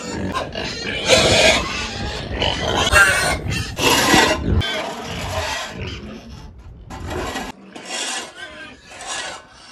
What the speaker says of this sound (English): Came to feed these pigs now.